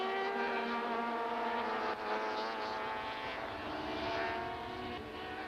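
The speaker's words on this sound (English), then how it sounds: "More race-cam action from the Van der Linde BMW at more than 200 kilometers an hour" A BMW Super Touring race car at more than 200 km/h on Kyalami's circuit in 1995, heard from an on-board camera: a loud, sustained, high-revving engine drone with a steady harmonic whine and wind roar, with no break throughout.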